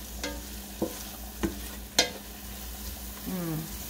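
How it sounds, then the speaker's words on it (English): Ground turmeric, cumin, coriander and peppercorns toast in a pan with a faint, low sizzle, broken by four sharp clinks or taps of a utensil spaced about half a second apart. "half a teaspoon of peppercorns ground. And in they go to be toasted"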